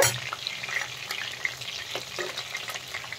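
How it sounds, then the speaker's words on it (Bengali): Chicken pieces frying for chilli chicken in a pan, a steady dense sizzle with occasional stirring scrapes, close and continuous with no talking. "এখানে দেখেন চিকেনটা ভাজা হচ্ছে"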